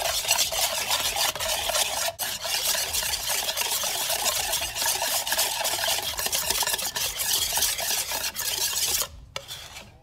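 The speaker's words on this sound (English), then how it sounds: "we're gonna start whisking it together." A whisk whips a coffee mixture in a bowl, a fast continuous scraping and rattling rhythm held close and steady for about nine seconds before stopping abruptly.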